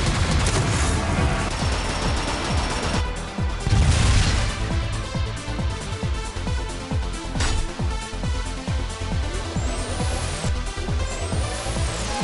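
Rapid bursts of gunfire and explosive crashes fill a stop-motion Transformers battle, dense and continuous volleys of shots with occasional louder booms.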